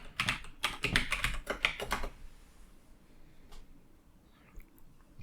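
A password typed on a computer keyboard: a quick burst of about a dozen close key clicks over two seconds, then quiet room tone with a faint click or two.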